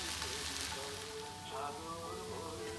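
Bitter melon and shrimp stir-frying in oil make a continuous, close sizzle with a soft crackle, steady and moderately loud over a faint low hum, with no talking.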